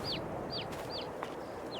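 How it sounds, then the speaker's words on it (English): Chickens on a Farming Simulator 22 farm give four short, high peeping calls at an even pace, faint over a steady low background hum. "We currently have 25 chickens laying eggs and about 36 female chicks."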